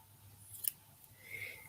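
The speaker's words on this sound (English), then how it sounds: "scissors go up there" Scissors set down and tucked away at a craft table, a brief light clack then faint rustling, quiet and close in a hushed room.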